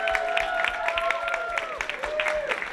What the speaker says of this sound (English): we need to give Rena a huge round of applause